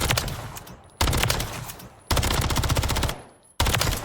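Rifle fitted with a Purifier muzzle fires in the MW3 video game, loud automatic bursts in three sustained strings separated by brief pauses, with no voices.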